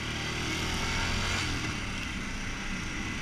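A Royal Enfield Himalayan motorcycle accelerates on a wet, lightly rainy road, its engine drone rising under a broad layer of wind and road rush, close and steady.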